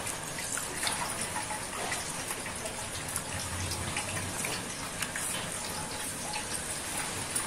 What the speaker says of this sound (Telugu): ఆయన షర్ట్ని ఎలా వాటర్లో ముంచి లేపి ఇప్పటి నుంచే వాష్ చేయటం